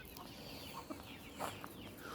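Chickens cluck softly in a quiet setting, roughly twenty hens kept with a few roosters in an enclosed coop, a few short calls scattered over a faint steady background.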